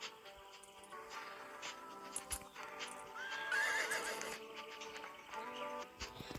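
Several horses in a stable yard at morning turnout whinny loudly, with one long neigh standing out midway, over scattered hoof clops and general rustling.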